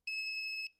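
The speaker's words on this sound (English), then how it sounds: "When the door opens, the circuit breaks and the buzzer sounds." A DIY magnetic door alarm buzzer built with a reed switch and low-voltage parts gives one steady high-pitched electronic tone lasting under a second, clear and alone, with a slight onset and release blip.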